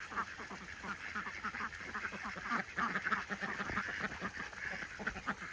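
Ducks quack near a newly built backyard pond, with geese close by. The calls are fairly faint and scattered, overlapping in a busy cluster against outdoor background noise.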